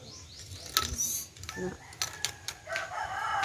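A hen clucks and squawks in short bursts amid other birds chirping, fairly faint, with outdoor background noise in a rural backyard.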